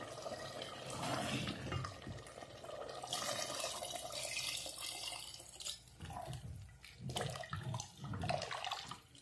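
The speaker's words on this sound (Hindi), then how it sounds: "अब हम इसके अंदर पानी ऐड करेंगे।" Water pours steadily into a pot of black chickpea curry, a soft continuous splashing and trickling that lasts several seconds, fairly quiet, with a few gurgling drips near the end and no voices.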